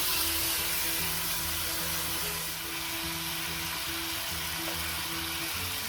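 Browned, caramelised pork bits sizzle steadily in a hot pan, a close, even hiss with a faint underlying hum and no voices.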